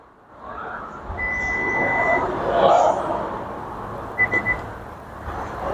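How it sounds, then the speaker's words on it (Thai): Isuzu MU-X parking sensor button gives a long steady beep, then several short beeps follow, heard under a car cabin hum. "ปุ่มปิดเนี่ยค้างไว้ 5วิให้มันดังปี๊บนะครับ"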